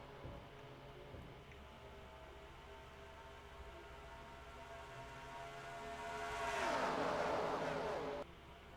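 Stock cars in NASCAR Racing 2003 at Daytona roar past in a 1960 Daytona 500 qualifying race, a steady engine drone building into a loud whooshing pass-by that cuts off abruptly, under a commentator's voice.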